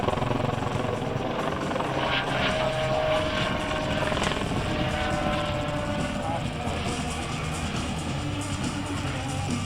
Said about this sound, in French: Donc cet hélicoptère, il faut savoir que c'était un hélicoptère école